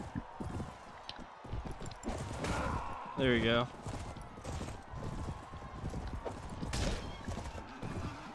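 Horse hooves clatter in a rhythmic gallop during a mounted battle in Mount & Blade: Warband with the Floris Mod Pack, mixed with combat noise and a voice talking over it.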